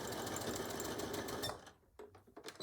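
A sewing machine back stitches a beach or diaper bag, whirring steadily and close for over a second before stopping, then a few soft clicks and handling noises follow.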